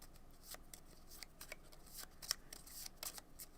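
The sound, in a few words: riffle shuffling playing cards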